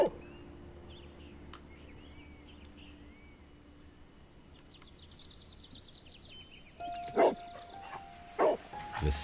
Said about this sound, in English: My dog is hiccuping!